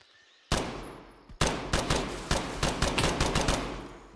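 Gunfire in Escape From Tarkov: a sharp shot breaks near silence, followed by a string of loud, close shots with uneven spacing that ring out and fade over a few seconds.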